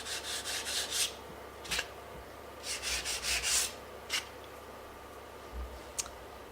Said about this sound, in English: you can actually sand while it's wet too